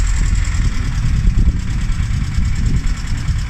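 A Vauxhall Corsa B fitted with a C20XE red top engine runs just after starting, a close, loud, rough idle with a steady knocking, tappety rumble and no voices.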